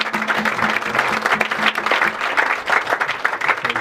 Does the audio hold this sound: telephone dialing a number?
no